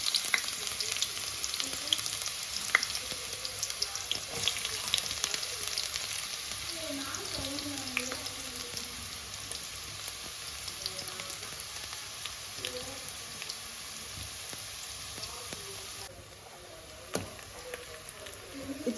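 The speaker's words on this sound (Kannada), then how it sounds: "ಆನಿಯನ್ ಬ್ರೌನ್ ಆಗಬೇಕು, ಅಲ್ಲಿವರೆಗೂ ಫ್ರೈ ಮಾಡ್ಕೊಳ್ಳಿ." Chopped onion and bay leaves fry in hot oil with a soft, steady sizzle and faint crackles, fairly quiet and close, over a constant background hum, with no voices.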